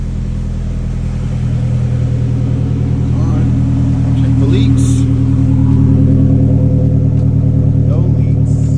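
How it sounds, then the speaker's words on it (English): A Mazdaspeed 3 engine runs after a fuel tank drop and an AEM fuel pump install, giving a loud, steady, close idle rumble throughout while people talk over it. "Car is now running."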